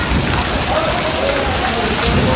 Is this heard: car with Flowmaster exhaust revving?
no